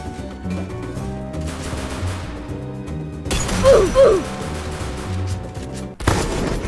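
Video game gunfire, the VSS rifle, crackles in bursts over a steady background of game sounds and music, with a louder rattling volley midway and a sharp crack near the end.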